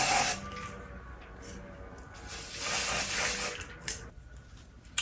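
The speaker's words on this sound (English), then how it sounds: "Just spray it a tad." Short hissing bursts of spray misted onto a curly bob wig, fairly soft and brief, with a louder stretch midway and faint clicks at the end.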